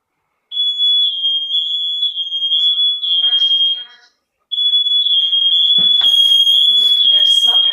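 A Nest Protect smoke alarm shrills in loud, rapid high-pitched beeps, pausing briefly, with a synthetic voice announcement breaking in between bursts.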